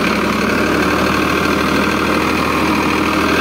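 A Farmtrac 60 tractor engine pulling a disc harrow, a steady loud diesel rumble with a dense knocking beat, close and continuous without pause.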